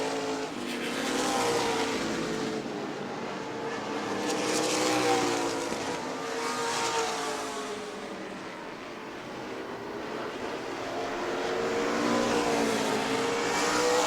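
Race cars in the closing laps of a short-track race at New Smyrna Speedway: a continuous, loud roar of several engines that swells and fades as the pack passes, with no talking.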